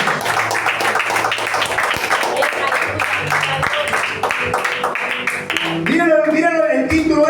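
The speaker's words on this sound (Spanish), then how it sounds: "Den un fuerte aplauso al Señor" A church congregation claps along under loud music and voices, the rhythmic claps steady and fairly close throughout.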